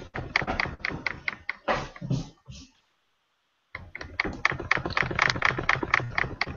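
Rapid keyboard typing clatters in dense, close bursts of crisp clicks during a meeting, stopping for about a second of silence before resuming at a brisk, steady pace.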